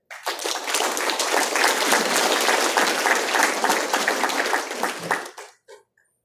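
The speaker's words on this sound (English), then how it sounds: "round of applause to Brother Vince" Enthusiastic audience applause at a church gathering after a talk on baptism of the Holy Spirit, loud, dense clapping from a full room that swells quickly, holds steady for about five seconds, then fades out with a few last claps.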